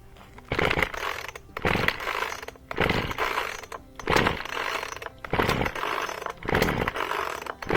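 Chainsaw engine starting after its choke is pushed in, then running in a series of loud, rough revving bursts with brief dips between them, close by and with no talk.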